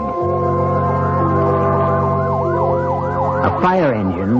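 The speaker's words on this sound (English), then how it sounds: "A fire engine, suddenly screaming through the night" A fire engine siren wails loudly at night, its pitch sweeping up and down in repeated cycles over a steady engine drone, close and piercing throughout.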